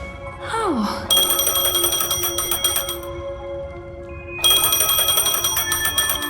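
A telephone ringing in the Honkai: Star Rail video game, a loud electronic bell trilling in two long bursts with a short pause between, preceded by a brief falling chime and backed by a faint musical hum.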